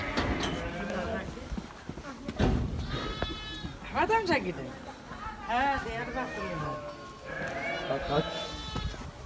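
Several sheep bleat repeatedly at close range in a Hatay village, their wavering cries overlapping, while people talk and hooves shuffle nearby.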